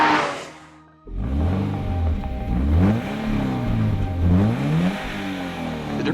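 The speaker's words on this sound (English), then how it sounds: "Both engines sound thrilling as they rev towards their red lines" A Porsche Boxster engine revs hard toward its redline, loud and close, with rising and falling pitch sweeps as it climbs through the gears after a quiet start.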